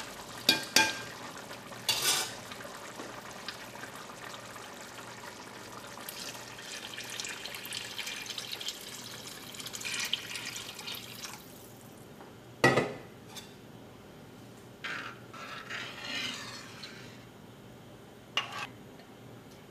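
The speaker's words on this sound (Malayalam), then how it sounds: "ഇനി നമുക്ക് ഇതിലേക്ക് രണ്ടാം പാൽ ചേർക്കാം." Second-extract coconut milk goes into reducing jaggery syrup for a Kerala cherupayar payasam. Soft liquid pouring and gentle stirring in a pot are punctuated by a few sharp clinks of a spoon against metal, all fairly quiet.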